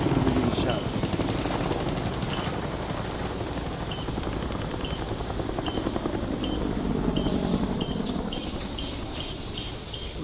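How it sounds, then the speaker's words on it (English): A helicopter in Modern Warfare 3 roars steadily and loudly through the whole stretch, a continuous rotor wash with hiss, while voices call out over it. "Put fire on that helo. Bring it down."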